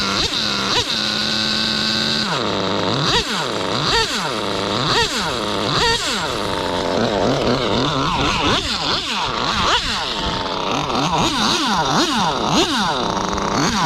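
A Novarossi nitro engine in a Mugen MRX6X RC car runs close and loud, revving up and down in repeated sharp throttle blips with a rasping, buzzing tone.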